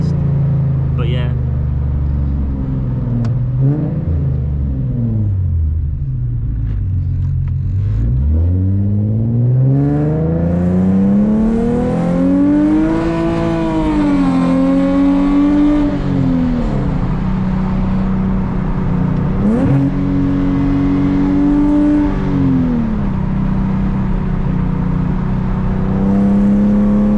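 Infiniti G37 with its VQ V6 engine revving while driving, a loud sustained exhaust drone that climbs and falls in pitch through repeated rev sweeps, with speech faintly over it.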